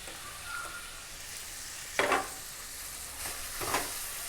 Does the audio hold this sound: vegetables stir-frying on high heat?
yes